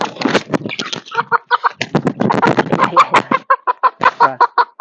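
A chick clucks loudly and close in quick, repeated bursts while its wings are cut with scissors, the calls running nearly nonstop with no talking.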